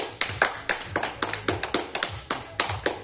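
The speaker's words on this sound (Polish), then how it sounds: "Oklaski." A small group claps in applause after a counted rehabilitation exercise session, with around fifteen sharp, fairly close claps in an uneven burst lasting about three seconds.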